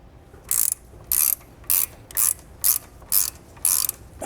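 Box end wrench ratcheting on an upper strut nut during a coilover install on an Audi S5, eight crisp evenly spaced clicking bursts close up in a quiet setting.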